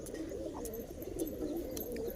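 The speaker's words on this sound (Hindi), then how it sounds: "और ये कबूतर तो पूरे गिरेबाज कबूतर है" Giribaz pigeons coo in a low, continuous rolling murmur at close range, several birds overlapping throughout with faint chirps above and no voices.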